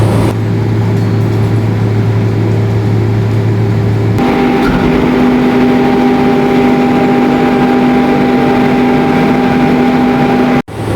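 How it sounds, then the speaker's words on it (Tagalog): A VMC VM-37A air compressor runs loudly and steadily with a constant mechanical drone, its pitch shifting once partway through as the load changes, then cutting off abruptly at the end. "successful ang first operation ng ating compressor machine."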